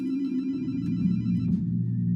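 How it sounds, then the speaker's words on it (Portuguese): A telephone bell rings in a continuous electronic trill, loud and near over a low background hum, with no voices present. "Na manhã seguinte, Kristen liga para saber como John está"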